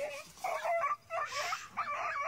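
A dog growls at hens over its food with a string of quiet, close whines and yips. The short bursts come in quick succession.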